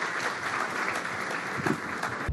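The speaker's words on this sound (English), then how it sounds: "Ladies and gentlemen, a big round of applause for our panelists here this evening." Audience applauding panelists at an evening panel discussion, a dense, steady burst of many hands clapping close by, sustained throughout with no talk over it.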